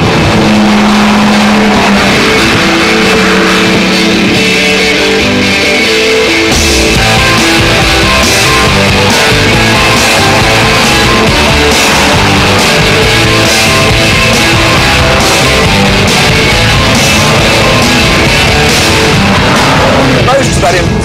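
A 2000 Porsche 911 Turbo producing 420 horsepower drives at speed, its engine a loud, continuous drone with shifting pitch as it accelerates, with a voice talking over it.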